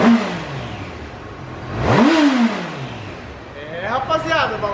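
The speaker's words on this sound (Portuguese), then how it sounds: "CB300 girando, ó." Honda CB300 motorcycle engine revving up and easing off, a rising and falling engine note with a strong surge in the middle, while someone talks over part of it.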